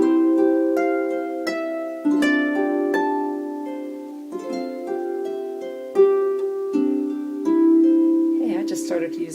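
Double strung harp plucking a Christmassy tune that starts from a lead-in note of G and moves to the tonic C, with clear ringing notes in a gentle, steady melody heard close up and alone.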